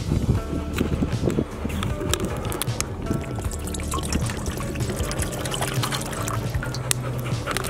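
Water is poured out for a dog to drink at a park, a trickling, splashing pour that runs on and off with scattered clicks and knocks, under faint background noise and no clear speech.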